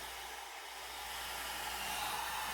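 A hair dryer set on low blows steadily to dry alcohol ink, a constant close airy whoosh heard alone.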